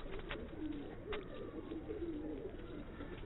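Chuha breed pigeons coo in soft repeated phrases, faint and steady over a hissy background, with a few brief chirps mixed in and no talking.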